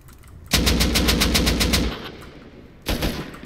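Rapid bursts of automatic gunfire in the survival game Rust, a loud volley of about ten quick shots, then a pause and a second short burst.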